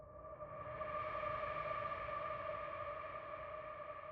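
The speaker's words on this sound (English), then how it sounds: "So we start with this flute effects sound from Media Toolkit," A sustained, breathy flute-like tone from a Media Toolkit sample library holds steadily, heavily processed with shimmering effects, soft and alone without any voices.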